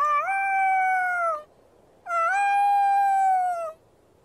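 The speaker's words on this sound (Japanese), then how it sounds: "子犬はまだ遠吠えをしている。" A puppy howls in the visual novel Sabbat of the Witch, giving two long, sustained, wavering howls with a short silent gap between them. No one speaks.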